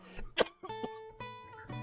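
A single sharp cough followed by a few softer throat sounds, close and fairly quiet, with no speech.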